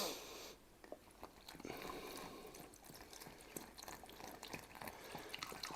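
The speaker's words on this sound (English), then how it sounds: "So now we're going to pour all this beer." Home-brewed Aussie draught wort from a fresh wort kit pours through a funnel into a keg, making quiet, irregular splashing and trickling with small drips and gurgles.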